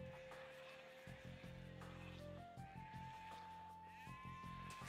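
Sheep bleat in the Age of Empires game during a Lithuanians versus Byzantines match on the Arena map. Short wavering bleats recur over a layer of steady game tones and rising musical notes, at moderate level.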